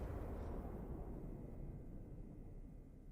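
An explosion in the video game Plants vs Zombies Fusion gives a deep, rumbling boom that slowly fades, heard faintly and with no speech.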